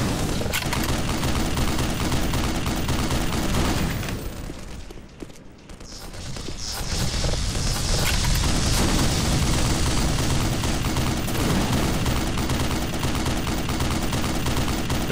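An automated turret in Black Mesa fires, sustained loud rapid gunfire that dips into a short lull around the middle before resuming as a dense, continuous stream of shots.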